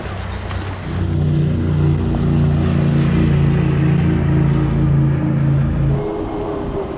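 A cigarette speedboat on Lake of the Ozarks: a loud, steady engine drone with a strong low hum holds for several seconds, then eases off as it passes by.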